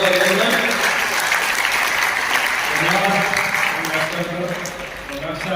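An audience at a yoga event in Haryana claps steadily and loudly throughout, with voices faintly audible beneath the applause.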